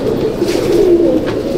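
A pigeon in a loft coos close by, a low steady rolling call that swells and softens over a second and a half with no other sounds around it.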